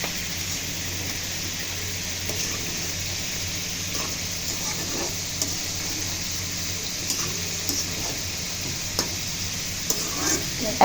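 Okra, potato and shrimp sizzle and fry in a pan with occasional stirring scrapes, a steady close hiss punctuated by faint utensil taps, no talking.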